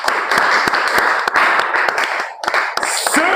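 Church congregation applauding during a Sunday service, a dense burst of close hand clapping that runs steadily for a few seconds with a brief dip near the end.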